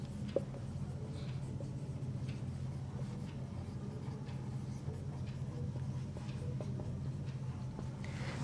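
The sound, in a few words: writing on a board while teaching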